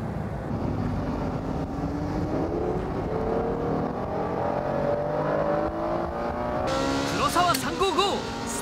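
Several race cars, a Ferrari 355, a Porsche and a Honda NSX, battle closely on a circuit in 1995, with engines droning and rising steadily together, then sharper revving and tire squeal near the end, under faint voices.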